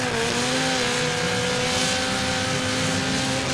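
Banger racing car at the Bash for Cash 2023 event, engine roaring in a continuous, loud, high-revving drone with steady tonal whine, heard alone and close.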